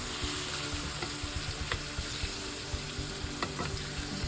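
Chicken sizzles and crackles steadily in a little olive oil in a skillet, a dense continuous fry with occasional sharper pops and light stirring clicks, close and moderately loud with no talking.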